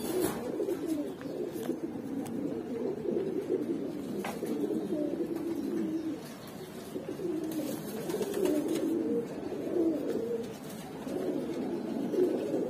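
Domestic pigeons, including Jhuma Pankhi, red Pati Hammer and Mili racers, coo steadily and softly at close range, with overlapping throaty calls repeating through the whole stretch and no voices.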